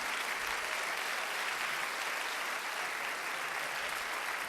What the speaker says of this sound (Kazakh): Бұл кісілерге де қол шапалақтап қойсаңыздар